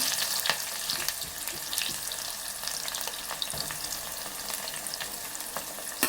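Steady crackling sizzle of onions frying in hot tempering oil with browned spices, with scattered sharp pops and a faint scrape of stirring, continuous and close.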